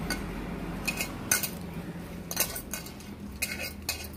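Boiled food mashed with a utensil in a wok with a little mustard oil, giving soft scraping and stirring scrapes with a few sharper clinks against the metal pan, close and fairly quiet.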